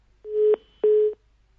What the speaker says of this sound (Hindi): चलिए, फोन डिस्कनेक्ट हो गया है